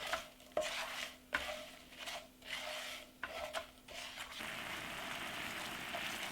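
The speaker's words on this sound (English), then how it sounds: "Syrup has starts sizzling and all the gur will be dissolved very quick." Rhythmic stirring and scraping of jaggery syrup in a pan over low heat with a soft sizzle underneath, repeated strokes, then a steadier hiss toward the end.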